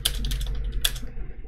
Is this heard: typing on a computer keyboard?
yes